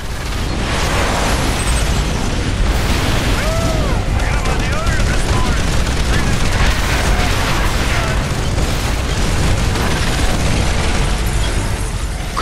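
Weapons fire at swarming insects in the video game EDF: Insect Armageddon: a dense, continuous barrage of gunfire and explosions, loud and unrelenting throughout, with a voice talking now and then over the din.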